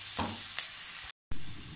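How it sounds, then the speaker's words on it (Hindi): Finely chopped capsicum and other vegetables fry in a pan with a close, even sizzle and a couple of quick stirring clicks, broken by a brief moment of silence. "सब्जियों को बहुत ज़्यादा भूनना नहीं है।"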